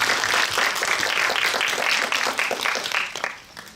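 A cinema audience applauds during a post-screening Q&A with the director and an actor at CGV Yongsan I'Park in Seoul. The clapping is dense and steady, then thins and fades over the last half second.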